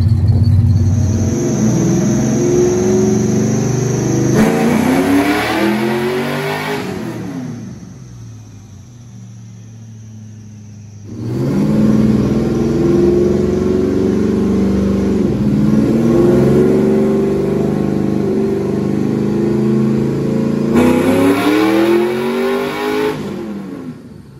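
A stock Chevrolet Camaro SS with a 6.0 engine runs on a dyno on a cold day, its deep exhaust roar building through long, loud pulls, easing to a lower idle in between, then surging again.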